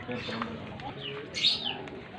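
A pigeon in a loft gives soft cooing and chirps amid other birds, with a brighter call and possible wing flutter near the middle while people talk nearby.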